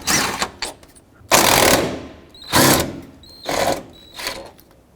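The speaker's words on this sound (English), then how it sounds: "take the 2 13mm bolts off that hold the radiator brackets in place" Ratcheting a pair of 13mm bolts off the radiator brackets on a 2007-14 Chevy Silverado, heard as several close, loud bursts of rapid mechanical whirring separated by short pauses.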